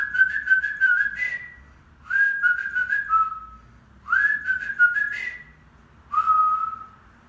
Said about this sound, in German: Ich kann die Titelmusik von Hatti pfeifen.